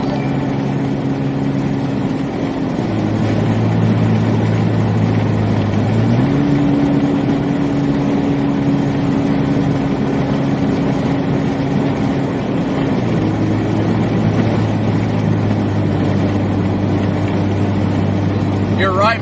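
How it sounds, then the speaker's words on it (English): Car engine with a major exhaust leak, a loud rough rumbling drone that shifts pitch in steps as gears change, steady and close, sounding like it is heard from inside the car. "my car sounds like crap. It's got a major exhaust leak."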